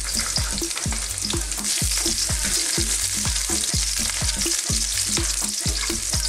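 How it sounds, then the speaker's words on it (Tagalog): Garlic frying in hot oil in a wok for garlic fried rice, a loud, steady sizzle that runs throughout, with a rhythmic series of scraping stirs close by and no talk. "Ngayon po sa wok natin, naglagay na po ako ng mantika. So ilalagay na po natin yung ating garlic."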